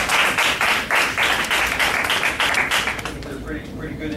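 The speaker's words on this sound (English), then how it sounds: "Give a round of applause." An audience at a 2013 youth session on product development and industry analysis claps in a dense, fairly loud round of applause that thins and fades after a few seconds.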